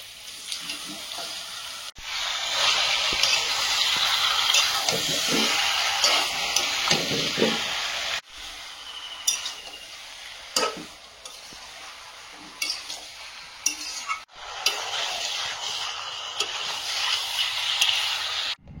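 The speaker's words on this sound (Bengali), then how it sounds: "এবার মাংসটা দিয়ে দেবো।" Meat added to onions and tomatoes in a pan, frying with a steady sizzle while being stirred and scraped, several bursts separated by short pauses, close and fairly loud.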